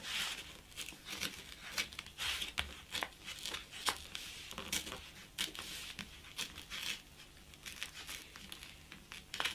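Scissors snipping through crinkly material in quick, repeated cuts, with rustling and crackling between the snips, close up and moderately quiet.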